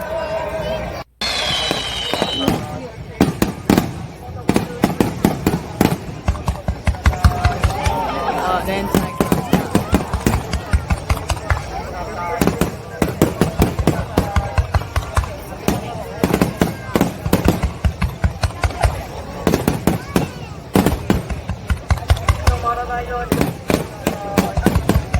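Fireworks at the Izumo myth festival go off as a long run of sharp bangs and crackles, some in quick rapid-fire clusters, loud and close, with people murmuring in between.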